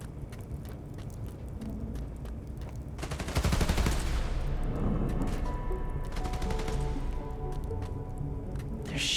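Rapid automatic gunfire crackles in a Spider-Man: Miles Morales fight at a power station, a loud sustained burst that gives way to scattered shots and impacts over a steady background.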